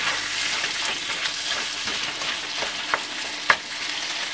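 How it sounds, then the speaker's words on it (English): Peanut butter chicken frying in a pan on an aging stove element, giving a steady close hiss of sizzling with scattered crackles and a sharper pop near the end, no voices. "Come on, chicken, please"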